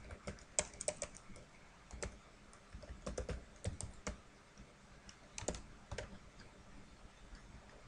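Keys clatter on a computer keyboard as a formula is entered into a spreadsheet, with scattered sharp clicks in uneven bursts and pauses, close and fairly clear, with no talking.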